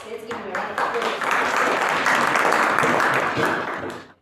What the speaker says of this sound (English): Let's give him a round of